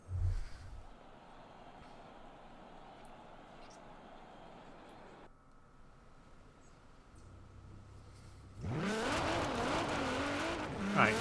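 Nissan GTR engine in a racing video game, a steady drone that idles and dips before rising into a loud, rough rev with shifting tones near the end, no talk over it.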